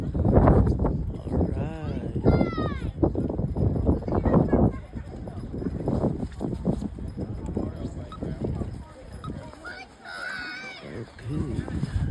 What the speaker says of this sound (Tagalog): Kita yun, laking kabayo.